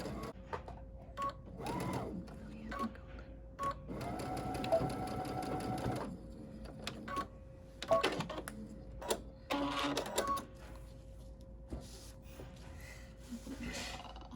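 A sewing machine stitches a fabric face mask in several bursts of rapid mechanical whirring, fairly close, with brief pauses between runs.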